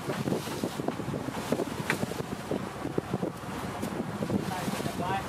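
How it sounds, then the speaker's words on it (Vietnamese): Strong wind buffets the microphone on a fishing boat at sea off Con Dao, a constant rough roar with scattered thumps and a voice speaking underneath. "gió quá quay không được gì hết"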